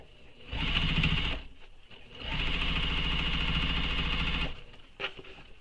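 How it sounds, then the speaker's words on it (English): A sewing machine runs a second row of stitching along the bottom of a fabric shoulder bag in two close bursts, a short run then a longer one, with a quick whir just before the end. "So we're gonna sew a second row of stitching as well."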